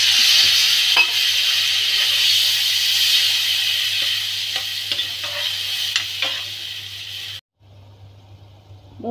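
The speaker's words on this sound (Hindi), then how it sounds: "इसमें डाल देते पानी।" A vegetable curry of lotus stem, cucumber and potato with spices sizzles and hisses loudly in a pan as it is stirred, then the frying drops off sharply when water goes in, leaving a quieter simmer.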